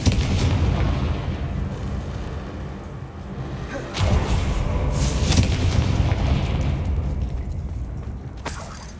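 Confringo and Bombarda spell blasts in the Hogwarts Legacy video game, booming, explosive bursts over a rumbling low roar, with a heavy blast at about four seconds and sharp cracks later.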